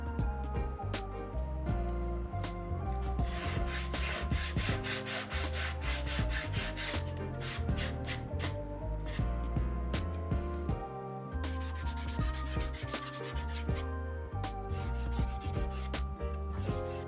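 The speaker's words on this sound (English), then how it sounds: "it's time to rip off the tape, sand it up, and put some finish on it" Wooden plant pot holder being sanded by hand, a continuous rhythmic scratchy rubbing with repeated strokes, close and moderately loud, no voices.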